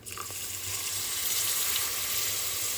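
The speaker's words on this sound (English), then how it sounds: "now I'm going to add my water." A steady hiss of water running into a hot gumbo pot, building slightly and continuing evenly throughout.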